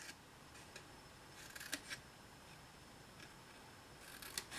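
Faint, small snips of scissors cutting paper along score lines, a few quiet clicks scattered over a low hiss.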